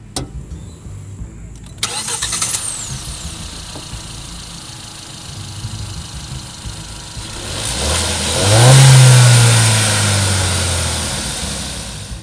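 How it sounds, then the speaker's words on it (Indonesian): After a quiet stretch with faint clicks, a Kia Seltos 1.4-litre turbocharged engine cranks, fires up with a surge of revving, then settles into a steady idle. "kita pengen denger suara dari mesin 1400 cc turbonya kayak apa"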